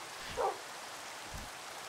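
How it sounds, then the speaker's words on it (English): Steady Minecraft rain hiss, faint and continuous, with a short muffled thump near the start. "Yo, it has been raining for like a day."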